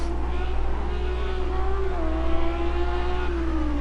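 A Lamborghini Super Trofeo race car engine at Laguna Seca holds a loud, steady, high-pitched drone near the rev limiter, with only slight pitch wavers and no other sounds.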